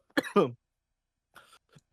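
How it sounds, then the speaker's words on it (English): Two sharp coughs in quick succession, close and fairly loud, followed after a pause by a few softer, fainter sounds. "I'm coughing."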